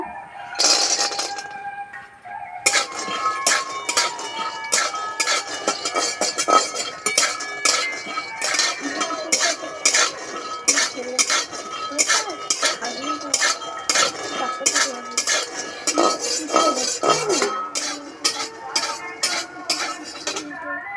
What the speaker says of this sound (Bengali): প্রথমে আমি এক বাটি বাদাম ভেজে নেব